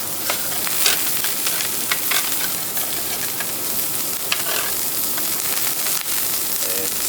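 A salmon steak sizzles steadily on a hot teppanyaki grill at a set-meal restaurant in Phuket, a loud continuous frying hiss with occasional sharper crackles and spatula scrapes.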